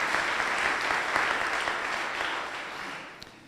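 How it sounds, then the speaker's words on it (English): Courtroom audience at a judge's investiture breaks into sustained applause, a broad, even clatter of many hands that holds steady, then gradually thins and fades toward the end. "You can clap. Go ahead."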